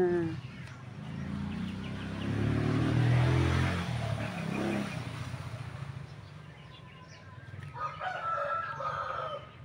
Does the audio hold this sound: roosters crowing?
yes